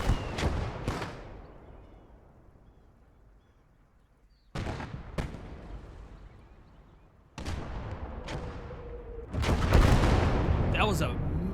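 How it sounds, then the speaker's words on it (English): Heavy explosions in the World War II game Gates of Hell, with several sharp bursts and booming blasts, one following a long decaying rumble, ending in a loud, dense barrage. "That was a major explosion."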